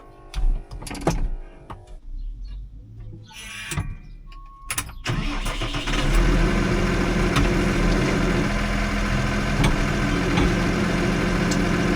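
A farm machine's engine, on a wheat and oilseed rape harvest, starts with clunks and bursts, then settles into a steady, loud running drone that holds for several seconds without a clear rev rise or drop.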